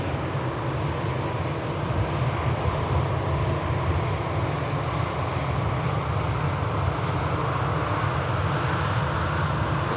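An aircraft takes off from the runway at Manchester Airport, a loud, steady broadband engine roar that holds constant throughout with no voices.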